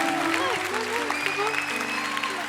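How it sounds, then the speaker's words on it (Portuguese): Congregation clapping steadily at a church conference service, a dense continuous patter under a voice and sustained musical tones. "Aplauda forte Jesus"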